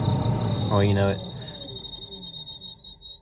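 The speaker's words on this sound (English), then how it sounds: "That noise you hear, once it gets warmed up, the bearings, I guess, in the motor get spinning." A steady, high-pitched mechanical whine with ringing overtones hums throughout from the worn-bearing heater blower motor of a 1978 Ford F-150 truck, while someone speaks briefly over it.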